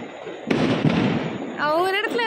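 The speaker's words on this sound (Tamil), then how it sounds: "ஃபுல்லாக ஒரு இடத்துல பட்டு வெடியுது" New Year fireworks at a midnight celebration go off in a sharp burst followed by a crackling spray, fairly close, while people talk and sing nearby.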